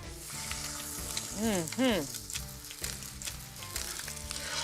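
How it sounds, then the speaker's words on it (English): Crab cakes frying in vegetable oil in a hot cast iron skillet, a steady close sizzle running throughout with a few louder pops and a faint tonal whistle in the background. "Crab cakes don't take long at all to cook, about 3 to 4 minutes per side till they get nice and golden."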